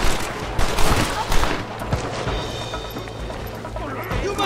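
Gunfire in the Western video game Red Dead Redemption: scattered shots and bursts crack over a busy, noisy background, with a voice speaking at times.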